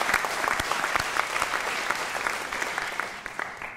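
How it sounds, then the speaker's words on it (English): An audience at a global peace economic forum in Manila applauds steadily, a dense, even wash of clapping that holds for a few seconds without any voices. "Please give Philippines a round of applause."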